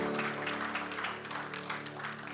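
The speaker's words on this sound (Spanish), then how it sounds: "Denle ese aplauso fuerte a Cristo porque Él es bueno" A church congregation applauding during a worship service, a continuous crowd of clapping with a faint sustained musical tone underneath.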